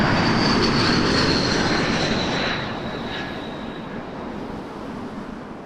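An Air Canada airliner's jet engines roar steadily at Toronto Pearson's runway 23, a loud, broad rushing drone with a high whine that eases slightly partway through.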